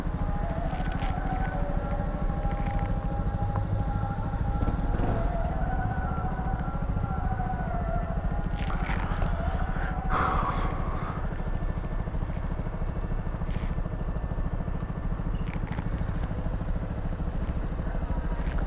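A motorcycle engine drones steadily up close during a night ride through traffic, with rising and falling pitch as it revs, amid constant wind rush and road noise.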